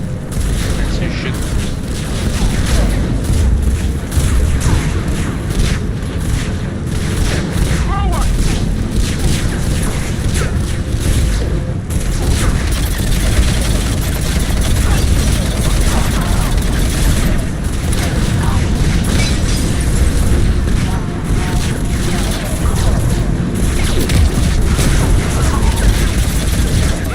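Constant gunfire and explosions rage through a combat firefight in Mass Effect 3, played on hardcore difficulty on PC, forming a loud dense wall of booms and shots with a player's voice talking over it.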